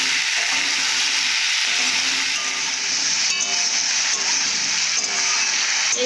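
Potatoes sautéing with salt in a pan give off a continuous, even sizzle that holds steady and fairly loud throughout, with faint stirring scrapes and no voices.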